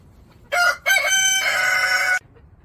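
A rooster with a badly wounded head crows once, close and loud, a brief clipped opening note followed by a long drawn-out call over quiet background noise.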